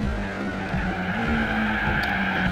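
Continuous tire screech and engine drone from a car skidding in the racing game Gran Turismo 4, loud and sustained throughout with steady engine tones underneath.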